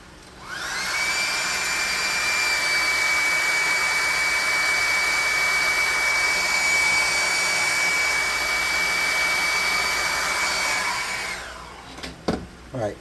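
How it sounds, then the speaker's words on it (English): Hairdryer blowing steadily for about ten seconds on a makeshift lettuce prop, a loud continuous whine with a high steady tone that switches off abruptly, followed by a few clicks and handling noises. "try to dry that off a little with the hairdryer"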